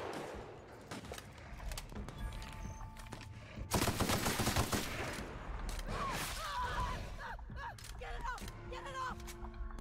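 Bursts of rapid gunfire fill a firefight in The Outer Worlds video game, rattling on through the fight with a heavier barrage near the middle, under game sounds and a voice.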